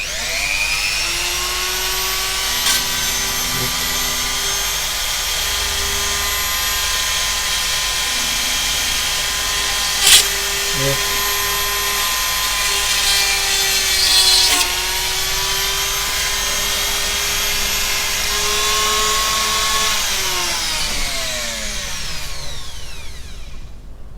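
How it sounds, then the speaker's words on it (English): A Dremel rotary tool fitted with a 1mm drill bit whines at a high steady pitch for about twenty seconds while drilling a small hole, with slight pitch shifts and a brief click midway before spinning down. "I've got 1mm drill set up in the Dremel"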